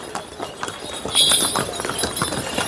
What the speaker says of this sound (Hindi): ऊपर से ये ला रहे हैं अंट संट घोड़ों को